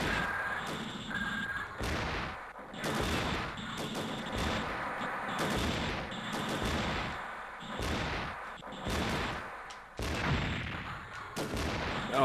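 Missiles and weapons fire in the mecha video game Mobile Suit Gundam Side Story III. Loud, dense booming bursts repeat every second or two across the whole stretch, over a steady layer of game noise.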